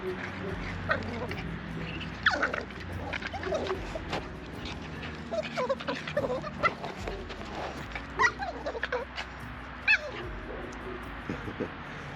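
Puppies play-fighting make a busy mix of close yips, whimpers and small barks in irregular bursts, with scuffling throughout and occasional sharper squeals.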